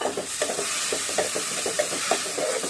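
Dal being stirred in a pan with ginger and spices frying, a steady close sizzle broken by soft repeated scraping strokes of the spoon, with no voices.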